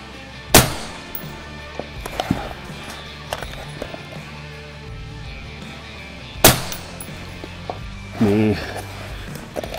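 Two sharp, loud rifle shots fired toward a target at 300 on an outdoor range, about six seconds apart, each ringing out briefly over low background noise.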